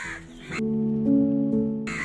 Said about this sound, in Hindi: उधर पेड़ की शाखा से कौवे के बच्चे भी नीचे उतर गए।